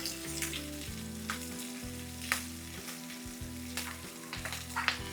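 Onions and capsicum fry in a pan for chilli mushroom, a steady close sizzle broken by occasional stirring clicks and scrapes, with no one speaking.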